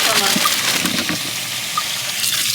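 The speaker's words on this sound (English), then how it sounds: "let these potatoes get clean. Wash them" Tap water running into a bowl while new potatoes are washed, a steady gushing splash heard close up throughout, with brief clatters and a voice speaking over it.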